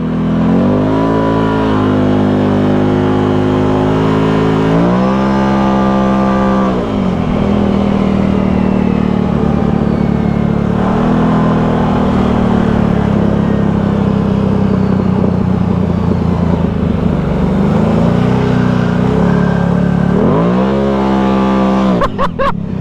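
A Can-Am side-by-side drives and accelerates, its engine climbing through repeated revving sweeps with shifts and sustained loud drone, heard close from on board.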